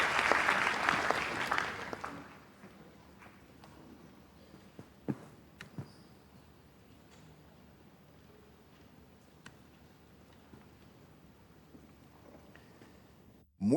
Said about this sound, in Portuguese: Vamos, com uma salva de palmas, receber o nosso pai